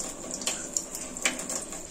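Water runs from a tap to fill a medication syringe, a short splashy trickle with a few small bursts and gurgles, close by and alone.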